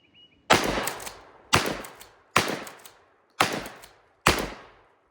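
Five loud Stevens 320 security shotgun blasts, each a sharp boom with a decaying tail, spaced about a second apart with no talk in between.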